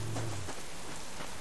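Rainfall in the survival video game Subsistence, a steady hiss of rain hitting surfaces with a low rumble at the start, continuous and without talk.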